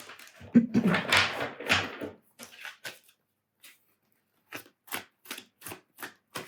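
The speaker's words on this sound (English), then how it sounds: "Okay, let's shuffle." A tarot card deck is shuffled by hand: a dense rustling riffle up close at first, then a string of short, crisp card snaps and taps spaced apart, with no talking.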